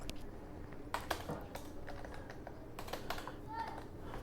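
A search being typed on a computer keyboard: brisk, uneven clusters of close key clicks with a few louder taps, over a faint room hum and no clear speech.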